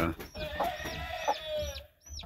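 Game hens on a farm, soft repeated clucks and short rising calls from nearby birds in an uneven rhythm, fairly quiet against a low background.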